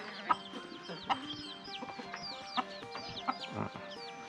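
Chickens cluck in a rural Lao village, with repeated short clucks and a few louder calls rising over a quiet background. No one speaks.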